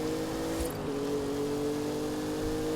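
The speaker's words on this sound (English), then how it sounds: "There's a car right here." A car engine drones steadily in a racing video game, a constant mid-pitched hum that holds at an even level throughout with no voices.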